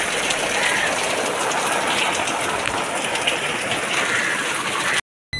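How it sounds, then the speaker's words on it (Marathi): Heavy rain in Dombivli, Maharashtra, a dense, steady roar of close broadband downpour that holds unbroken for about five seconds, then cuts off briefly near the end. "पाऊस खूप जास्त आहे"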